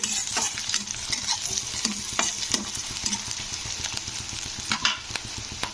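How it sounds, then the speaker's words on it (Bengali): Steady sizzling of curry leaves frying in hot oil, with repeated scraping and stirring knocks of a utensil against the pan, close up. "কারি পাতা দিয়ে একটু নাড়াচাড়া করে দিতে হবে"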